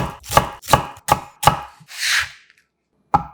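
A knife chops a quarter onion on a cutting board in four firm, evenly spaced close strikes, then a brief scraping sweep, a pause and one more chop.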